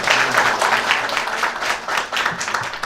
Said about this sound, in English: Let's give them a big round of applause as they finish their 3 questions.